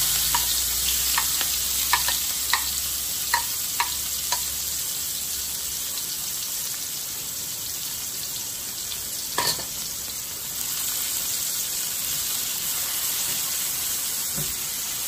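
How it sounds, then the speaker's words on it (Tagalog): Sliced onions sizzle steadily in hot cooking oil in a pan as the base for coconut-milk sardine stew, with a bright continuous hiss and a few sharp utensil clicks and stirs near the start. "So, gisahin nyo muna yung sibuyas"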